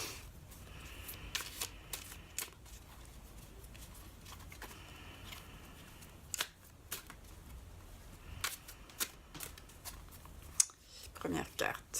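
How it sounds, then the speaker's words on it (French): A deck of cards shuffled by hand before a card reading, soft riffling and flicking bursts with light clicks repeating over several seconds, quiet and close. "Je vais mélanger les cartes."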